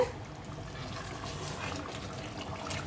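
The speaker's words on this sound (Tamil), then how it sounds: "இப்போ வந்து தண்ணி கொஞ்சம் ஊற்றிக்கலாம்." Hot water poured into a pot of Kerala-style mutton curry, a soft, steady trickle that runs for a few seconds without a break and stays fairly faint.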